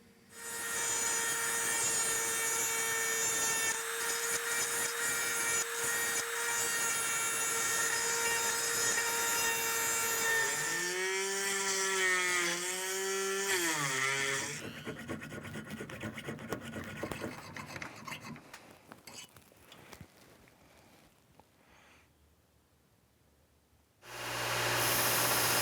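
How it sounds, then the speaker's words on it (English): Dremel rotary tool grinding out the middle of a wooden machete handle to fit the tang, a steady high whine, loud and close, with pitch sweeps as it loads and a long tapering grind that stops abruptly. "I'll go ahead and clean out that middle area between the two with a Dremel"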